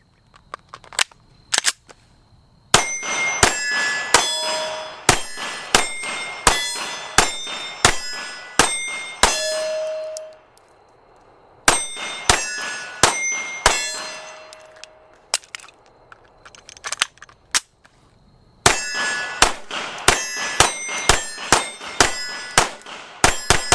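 Sharp, close pistol shots from a Steyr M9 fire in quick strings, each followed by a bright ringing clang from steel targets, with short pauses between volleys.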